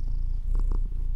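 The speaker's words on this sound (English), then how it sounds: "Cats." A cat purrs close by in a steady low rumble that fills the whole brief moment, with a few faint higher chirps over it and no talk.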